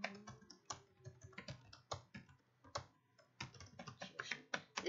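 Fingers type on a computer keyboard in quick, uneven bursts of close, crisp key clicks, with short pauses between runs and no talking.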